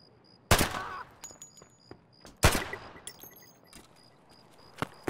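Gunfire in the video game Escape From Tarkov at night on the Shoreline map: two sharp, loud bursts about two seconds apart, then scattered quieter shots and clicks trailing off.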